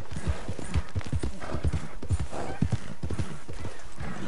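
Horse hooves clip-clop steadily and briskly in the video game Red Dead Redemption 2, a loud close rhythmic pattern of hoofbeats filling the whole stretch, with no talk over it.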